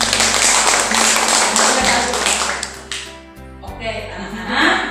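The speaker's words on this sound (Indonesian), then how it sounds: "Tepuk tangan untuk kasihan." Children clapping in a classroom at the teacher's cue, a short burst that thins out as a teacher's voice carries over it.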